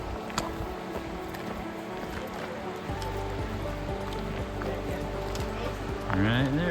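Steady broadband rush of a river flowing near a hiking trail on the Hurricane Canal hike from the Virgin Dam trailhead in Utah, continuous and fairly loud, with a rising burst near the end.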